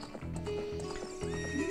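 Epona the horse from Zelda: Ocarina of Time gives a clear, close neigh with clip-clopping hooves beneath it in a short burst.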